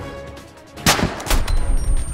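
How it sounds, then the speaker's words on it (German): Gunfire shot into a mountainside in the military video game ArmA 2: a sharp close shot followed by a few rapid bursts and a rumbling, echoing tail, with no one talking. "Hier schieße ich in den Berg."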